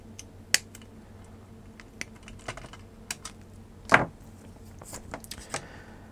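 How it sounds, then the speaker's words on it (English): Wire cutters snip through wires inside a dangerous ASTRA BT311 multiway extension lead, giving a few sharp, isolated clicks spread over several seconds, the loudest near the middle, against a quiet room background. "So if we just cut these wires,"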